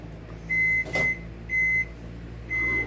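A microwave oven heating fishing bait gives four short, high electronic beeps in an even rhythm over a low steady hum.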